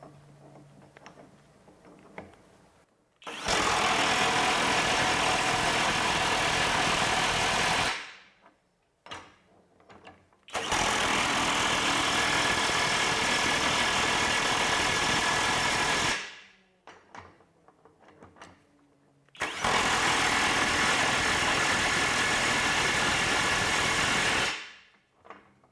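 A FLEX FX1471 high-torque cordless impact wrench hammers nuts tight in three long, loud bursts of rapid rattling impacts, each lasting about five seconds, separated by short pauses filled with faint clicks and handling noise.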